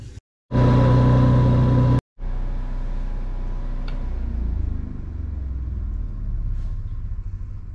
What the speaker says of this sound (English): Let's fire the generator up